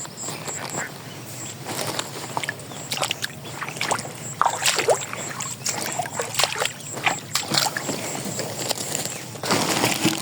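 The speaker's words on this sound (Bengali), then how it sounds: "তো এই যে নৌকায় উঠি।" A rowboat crosses floodwater near a village, with irregular splashes and knocks of water against the hull throughout, fairly close, under a steady background hiss and no talk.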